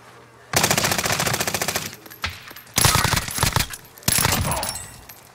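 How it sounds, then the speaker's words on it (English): Rapid automatic gunfire from a Warzone match in long, loud bursts, a sustained volley first, then several shorter rattling bursts separated by brief pauses. "Oh, they're getting shot at."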